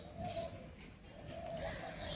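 Doves coo faintly outside a balcony during light drizzle, soft repeated calls over a quiet, hushed background.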